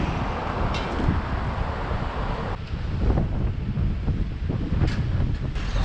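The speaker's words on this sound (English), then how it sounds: "Here's that wind again. So we're probably gonna hear some wind." Strong wind buffets the microphone on Fuengirola beach, a constant loud rumbling roar with gusty swells and distant surf underneath, no talking.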